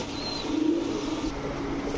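Redneck Budapest pigeons at a bird market, with a soft low coo rising in the middle over steady background hum, moderately close and fairly faint.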